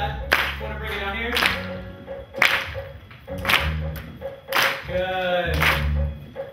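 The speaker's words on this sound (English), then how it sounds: "I'm gonna keep the clap up here." Rhythmic hand claps keep time during a group exercise break, sharp repeated bursts roughly every second over background music and an instructor's voice.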